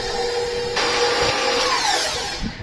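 An electric mixer beats cream cheese and granulated sugar in a bowl for a cheesecake, a steady close whirring motor hum that rises in loudness partway through, with no talking.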